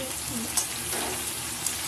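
Vegetables for labra, a Bengali mixed-vegetable curry, frying in a pan, a faint soft sizzle with light crackling pops, steady and low throughout.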